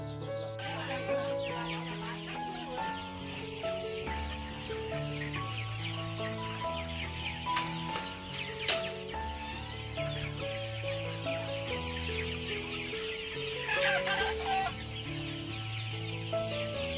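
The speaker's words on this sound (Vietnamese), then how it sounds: "bây giờ thì bác có chuyển qua nuôi gà mía rồi" Purebred Mia chickens cluck on a farm, a steady chorus of soft clucks from the flock heard beneath continuous background music, with a couple of louder squawks standing out.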